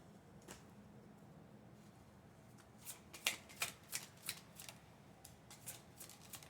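Angel oracle cards being shuffled by hand during a spiritual reading: a quiet stretch gives way to a run of crisp riffling snaps and card clicks in close succession, fairly soft and close, with no talking.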